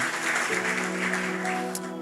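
Church congregation claps in continuous applause, a dense steady patter that runs throughout, with a sustained musical tone beneath it.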